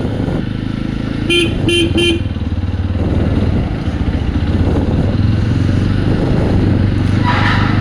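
Jawa 42 Ivory Edition 300cc motorcycle engine idling and running steadily in first gear, a low continuous throb with a few short horn toots from nearby traffic partway through.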